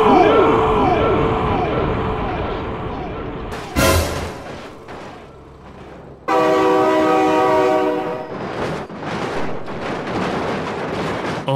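A train in BeamNG Drive blasts its horn in long, loud tonal bursts while rumbling past close by, with the roar of the passing cars continuing between horn sounds.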